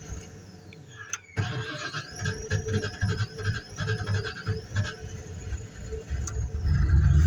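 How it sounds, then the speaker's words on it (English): A Ford F-150 pickup truck engine cranks and turns over with squealing and scraping, rumbling unevenly and growing louder toward the end. "What you're listening to is me trying to start Ford F-150"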